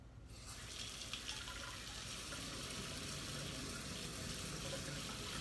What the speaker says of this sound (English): So I'm just going to wash my hands thoroughly.